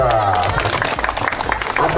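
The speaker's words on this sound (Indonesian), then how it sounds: "Tepuk tangan dulu." Group of people at a company team-building gathering clapping hands together, a dense burst of claps with shouting voices and talk over it, close and loud.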